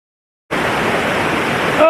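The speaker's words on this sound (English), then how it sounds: "The waterfall." Waterfall in a valley on a cool spring day, a loud, steady rushing roar of falling water that starts abruptly and carries on unbroken, with no voices.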